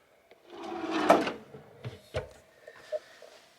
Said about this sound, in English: Here you have a little drawer.